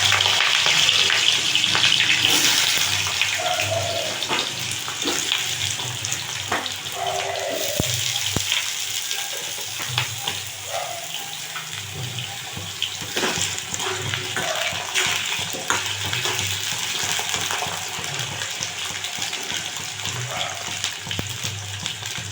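Potato pieces and two green chillies hit hot oil seasoned with five-spice (panch phoron), giving a continuous loud sizzle and hiss that softens slightly but carries on steadily throughout.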